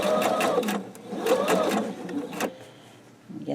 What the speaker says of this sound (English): Match the raw edges and then go ahead and sew.